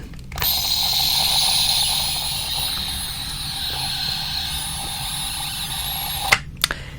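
A theremin with dead batteries gives a steady, thin electronic whine and hiss that drones for several seconds, then cuts off abruptly, followed by a couple of sharp clicks.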